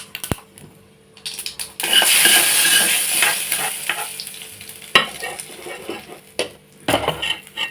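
Dried red chillies and curry leaves hit hot oil in a pan, flaring into a loud hissing sizzle that fades in waves, with metal spoon clinks and scrapes against the pan between bursts.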